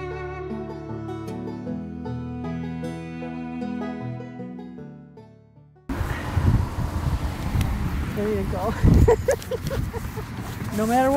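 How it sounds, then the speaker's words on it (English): Wind on a blustery outdoor day, heard as gusty rumbling buffeting against the microphone with low bursts and rustle, starting abruptly after a stretch of music. "It's a windy day."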